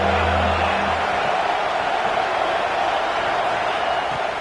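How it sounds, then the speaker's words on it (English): Steady roar of a stadium crowd at a college football game in NCAA 26, loud and continuous throughout, with a low hum briefly audible at the start. "This crowd knows when to bring it."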